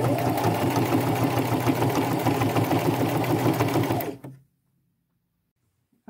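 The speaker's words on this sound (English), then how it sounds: "I'm going to line my next row up with that line and sew all the way around both pant legs." A sewing machine stitches a hem around pant legs, running at a fast, even whirring rhythm for about four seconds before stopping abruptly into silence.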